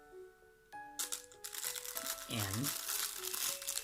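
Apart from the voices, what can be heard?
plastic bubble wrap being removed from a watch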